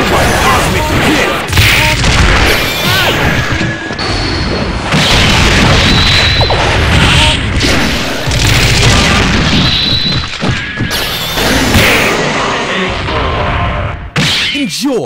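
Heavy impact hits from a cosmic kick attack in a MUGEN fighting game, loud booming thuds and crashes landing repeatedly over a busy backdrop of game music and effects, with brief character voices.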